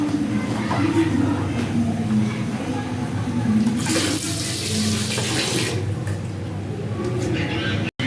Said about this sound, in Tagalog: Running water po talaga akong maghugas.